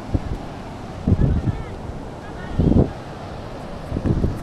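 Sea waves at a quiet, uncrowded beach in Guhagar wash in as soft low surges every second or so, mixed with wind rumble on the microphone.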